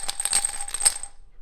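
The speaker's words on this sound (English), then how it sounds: "And this one has the big bits of pasta and it sounds like this." Homemade shaker filled with big pieces of dried pasta, shaken in a quick burst of bright rattling clicks for about a second, close and fairly loud, then stopping.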